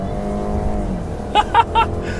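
A 2019 Subaru Impreza engine revs up toward just below redline, a close, loud car sound with short rising pulses near the end, heard from inside the car.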